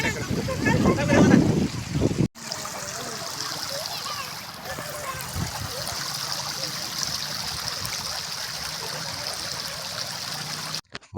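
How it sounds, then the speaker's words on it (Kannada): Overflow water pours over the spillway of Marikanive (Vani Vilas Sagar) dam near Hiriyur, Chitradurga, Karnataka, a steady broadband rush with a louder splashing burst at the start and faint background voices. "ಕೋಡಿಯಲ್ಲಿರ್ತಕ್ಕಂಥ ನೀರು ಕಡೆಗೆ ಬರ್ತಾ ಇದೆ."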